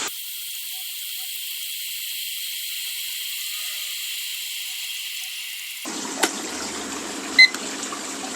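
An Imarflex electric kettle heats 300 ml of water, giving a steady broadband hiss that runs for several seconds before dropping to a low rumble near the end, with a couple of faint clicks.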